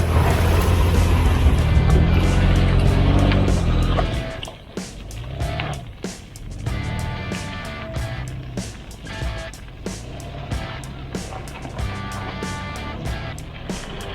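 Toyota Prado 4x4 crawling off-road on a campsite track, engine loud and steady at first, then dropping to a lower irregular rumble with knocks and creaks from the suspension flexing as a wheel lifts.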